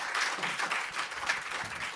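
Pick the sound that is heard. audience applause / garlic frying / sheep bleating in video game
audience applause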